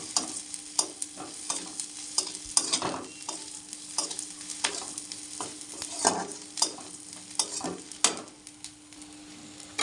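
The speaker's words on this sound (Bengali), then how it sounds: "সরষা দিয়ে দিচ্ছি, জিরা দিয়ে দিচ্ছি, ভালো করে পেঁয়াজের সঙ্গে ভেজে নেব।" Onion fries in a pan with mustard seeds and cumin while a spoon stirs it, sharp scraping strokes and crackles recurring every second or so over a soft sizzle.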